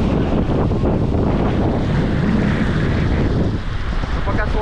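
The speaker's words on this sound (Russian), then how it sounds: "Сейчас как волна бахнет" Sea waves surge and crash against a concrete shore, a heavy, continuous wash of water noise partly buried under strong wind buffeting the microphone.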